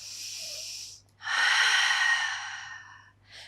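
Audible breathing during an intermediate Pilates mat session: a breath out, then a longer, louder airy exhale, and a short faint breath at the end, all close and with no talk.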